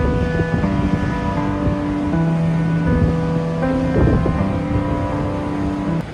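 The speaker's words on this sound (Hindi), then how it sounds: "साथ में समुद्र की लहरों का भी आनंद उठा सकते हैं" Sea waves along the Somnath temple promenade, a continuous broad wash of surf with a steady tonal hum layered over it, fairly loud and unbroken.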